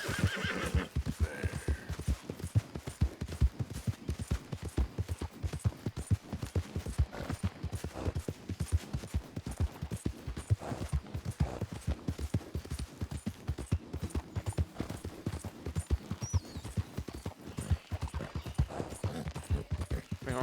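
Horse hooves clip-clop in a rapid steady rhythm throughout a Red Dead Redemption 2 game scene, with whinnying and neighing calls mixed in over the gait.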